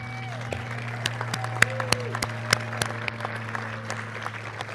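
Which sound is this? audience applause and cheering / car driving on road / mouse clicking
audience applause and cheering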